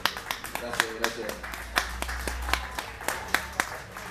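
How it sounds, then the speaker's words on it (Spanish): Scattered, sparse hand claps from an audience at an awards ceremony greet Iván Lobo as he takes the stage, with a low hum running underneath. "Fuerte el aplauso para Iván Lobo."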